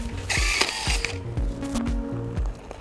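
A Senco SRT 40 rebar tying tool wraps wire in quick mechanical bursts, with a series of close, sharp ratcheting whirs and clicks repeating roughly every half second.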